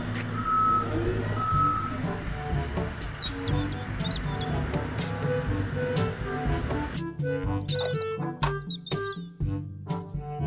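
A toy cement mixer truck gives a steady run of high reversing beeps over a low mechanical hum, then switches to sharper, more clipped beeps and clicks partway through, all close and fairly quiet.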